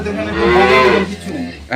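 A dairy cow on a cattle farm gives one long, loud, close moo, followed by a short pause and the start of another low call.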